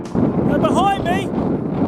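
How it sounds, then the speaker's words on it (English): Strong wind buffets the microphone beside the remains of HMS Beagle, Charles Darwin's expedition ship, a steady low rumbling roar throughout with a brief voice-like warble in the middle. "if you can hear me, over the wind, is the remains of HMS Beagle"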